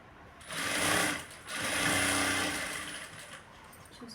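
A sewing machine stitching the lining of a blouse, close up: two fast mechanical whirring runs separated by a brief pause, the second longer and fading out.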